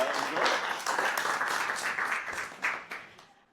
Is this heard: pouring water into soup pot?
no